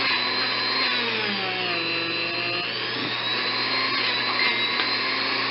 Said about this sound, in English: And I want to buff these surfaces here.